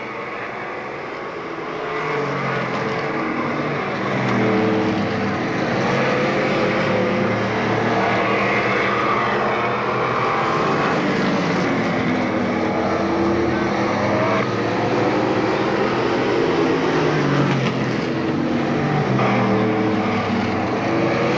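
Race cars in a mini feature at Monadnock Speedway, 1993, a dense continuous roar of several engines circling the track at a moderate distance, rising and holding steady with faint announcer talk underneath.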